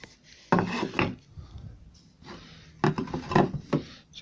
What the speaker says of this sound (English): Cutting dominoes now.